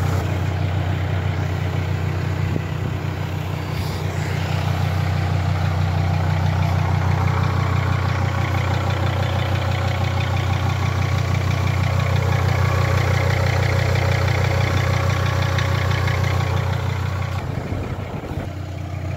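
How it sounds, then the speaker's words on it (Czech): Mercedes car engine with a damaged exhaust idles steadily nearby, a continuous low rumbling drone that holds for the whole stretch with no voices. "To je motor."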